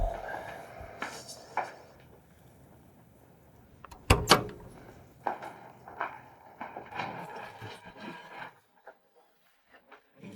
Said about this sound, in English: Mr. Williams, maybe you should go open the door.